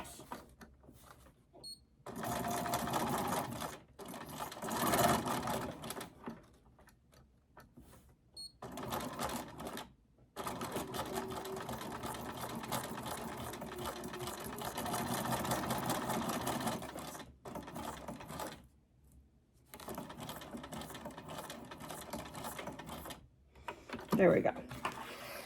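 A sewing machine runs in bursts of rapid free-motion stitching across fabric tags for a junk journal, its motor whirring in several long runs broken by short pauses, loud and close.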